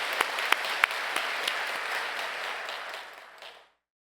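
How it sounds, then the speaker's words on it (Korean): A church congregation at the opening worship service of a retreat gives a burst of steady applause with a few sharp individual claps, which tapers off and stops after about three and a half seconds. "주님께 다시 한번 영광의 박수 올려드립니다"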